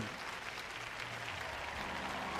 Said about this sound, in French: On m'applaudit beaucoup ce soir